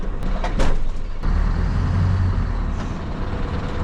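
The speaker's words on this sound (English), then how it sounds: "So we're now backing onto the weight trailer" A heavy truck edges backward onto a weight trailer ahead of a brake test, its engine rumbling low and steady, with a sharp air-brake hiss and a couple of clunks near the start.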